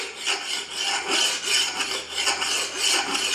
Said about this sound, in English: sharpen your blade that way and just check the progress as you go